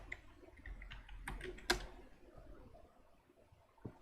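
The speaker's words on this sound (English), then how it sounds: "let me type my password" Quiet clicks of keys on a computer keyboard as a password is typed, a few soft taps followed by one sharper press, faint and close.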